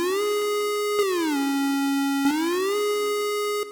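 VPS Avenger 2 synthesizer holding a bright, pure electronic tone that glides down to a lower pitch, sustains, then slides back up, with click-like retriggers at each change.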